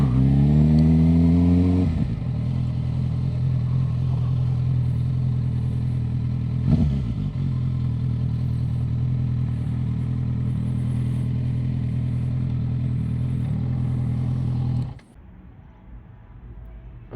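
A motorcycle engine idles steadily and loudly up close while being parked, with one brief blip of revs partway through before it cuts off, leaving quiet street ambience.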